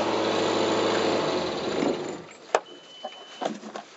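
A marine diesel engine being winterized on the hard runs with a steady loud drone, then shuts down partway through. Quiet clicks and clunks follow in the near silence.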